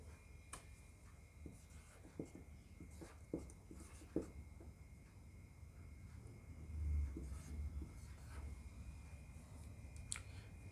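A pen writes a set in set-builder notation, leaving faint scratchy strokes and light taps over a quiet background hum.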